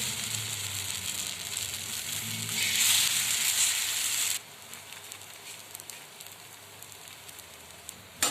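Wheat flour pizza base sizzles on a griddle in mustard oil, a dense hiss that swells for a few seconds, then drops abruptly to a quieter crackle, with no speech.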